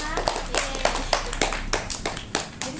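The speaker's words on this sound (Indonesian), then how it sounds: "Berikan tepuk tangan buat ibu-ibu semua." A small group of women at a diabetes nutrition session claps in an irregular patter, sharp close hand slaps repeating for a few seconds.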